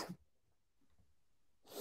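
A single sharp sneeze bursts out at the start, close to a microphone during a sports podcast, followed by quiet and then another loud burst of noise.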